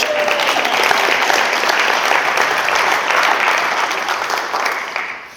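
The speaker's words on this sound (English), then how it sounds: "Round of applause for staging, for Set the Stage" Audience at a real estate investor panel event breaks into loud, sustained applause, a dense continuous clapping that holds steady before fading out at the end.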